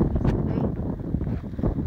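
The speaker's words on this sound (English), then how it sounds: "I don't know if I'm yelling or not, it's windy as heck" Heavy low rumbling buffets from wind hitting the microphone in an open farm field, steady and loud throughout with no one speaking.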